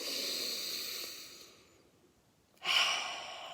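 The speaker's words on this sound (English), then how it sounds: "Breathe. You guys, breathe." Deep breathing during a calming wellness session: a long airy exhale fades into near silence, then a sharp, close inhale rushes in, soft and breathy with no talk.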